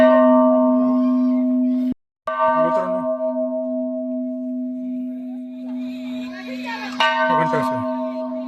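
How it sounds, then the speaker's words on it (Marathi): A large bell at a Shiva temple rings with a loud, sustained metallic tone that decays slowly and is briefly interrupted near two seconds. It is struck again around seven seconds, with faint voices and footsteps in the background. "भरपूर मोठा घंटा आहे."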